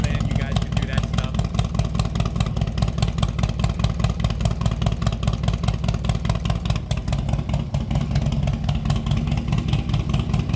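A 2007 Harley-Davidson Screaming Eagle CVO Dyna 110 with custom ignition, a 2-into-1 Bassani exhaust and no heat shields runs with a loud, steady, throbbing idle that stays constant close by, with a brief dip partway through.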